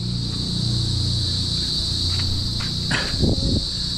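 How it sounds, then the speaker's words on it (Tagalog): Steady high-pitched cricket chirring fills the background at night, constant and moderately loud, with a few faint knocks and rustles near the end. "Naririnig nyo ba yung mga kuliglig?"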